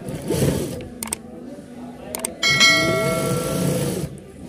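A sewing machine stitches the side seams of a child's kurta, running in short bursts of whirring hum broken by brief pauses and sharp clicks, with a voice speaking between the runs.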